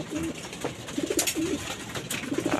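Pigeons feeding in a loft before a derby race basketing, giving soft repeated coos and low bird calls in short bursts over a steady background, with no one speaking.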